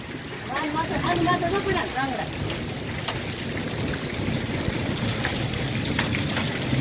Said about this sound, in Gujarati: હવે હવે કરા પડે છે એ તમે જોજો.